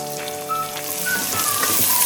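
Onion and tomato sautéing in a pan for a South Indian fish curry, a brief, steady soft sizzle heard up close.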